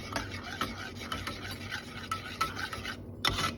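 Red pepper powder being stirred into oil, a steady scraping and swishing of a spoon in a small pan with rhythmic strokes, close and fairly quiet, with no talking.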